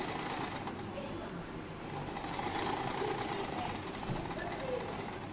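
A sewing machine runs steadily while stitching a sarong, giving a continuous fast mechanical whirring hum at low level with no clear pauses.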